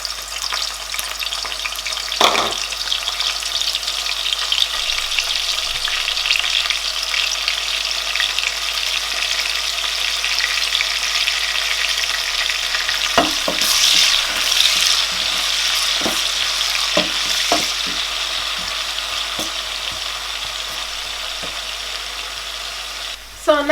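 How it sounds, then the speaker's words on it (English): Onions fry in plenty of oil in a pot for Nigerian jollof rice, a steady, dense sizzle running throughout with a few faint clinks from stirring. "After frying our onions for like 2 to 3 minutes, we add our tomato."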